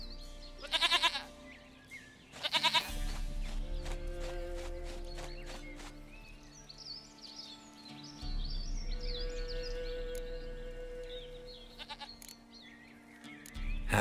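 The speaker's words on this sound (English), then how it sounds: "Goat of mine, dearest, sweetest goat." A goat in The Witcher 3 video game bleats twice in quick, wavering bursts near the start, followed by soft game music, a low rumble and faint clopping hooves.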